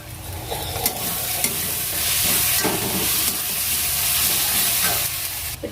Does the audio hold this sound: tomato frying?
yes